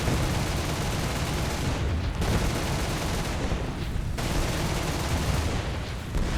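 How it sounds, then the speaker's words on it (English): Sustained 20mm anti-aircraft cannon fire in the War Thunder game, a loud dense stream of rapid shots that rolls on almost without pause, dipping briefly twice before resuming. "Schulze, having been hit in the arse by 20mm cannons, is now dead."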